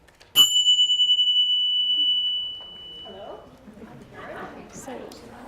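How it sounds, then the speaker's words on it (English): A pair of ting sha bells struck once, giving a bright, clear chime that rings on and slowly fades over about two seconds before people start talking in a room. "when I ring the ting sha bells"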